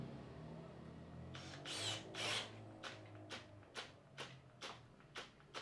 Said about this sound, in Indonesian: ini kita ganti mata bor kipas ya. Di sini mata bor kipas dengan size di 40 mili